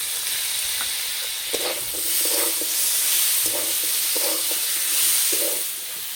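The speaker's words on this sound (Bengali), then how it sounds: "এবার দেবো ছোলার ডাল, আর ডালটাকে মোটামুটি 2 ঘন্টা মতো ভিজিয়ে রেখেছিলাম" Chana dal soaked for about two hours is stirred into spiced vegetables in a pan, giving soft repeated scraping strokes over a steady frying sizzle, with no talking.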